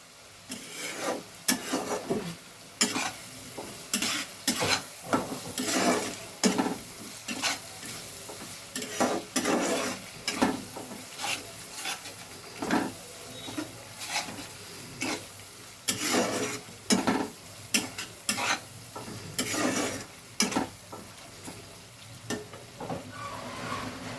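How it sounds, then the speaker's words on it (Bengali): Spice masala sizzles and fries in oil in a pan while a spoon stirs it, giving repeated loud scraping strokes in an uneven rhythm over a constant hiss, with no talk. "যতক্ষণ না তেল ছাড়ছে ততক্ষণ এটা কষতে থাকবো"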